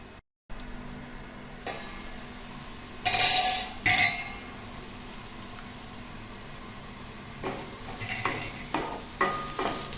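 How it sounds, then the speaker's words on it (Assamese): Potatoes frying in a pan for a shewali flower stir-fry, a continuous close sizzle with bursts of stirring and scraping as a spatula turns them, no voices. "আলুখিনি প্ৰায় ফ্ৰাই হোৱালৈকে ৰ'ব লাগিব।"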